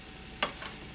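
Pineapple fried rice stirred in a hot pan gives a short scraping sizzle, one brief burst and then a fainter second stroke over a low background hiss, with no talking.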